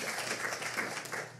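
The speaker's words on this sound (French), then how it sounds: "Merci pour vos applaudissements." An audience claps at an evening event in Quebec, a brief, fairly faint burst of applause with dense, even clapping throughout.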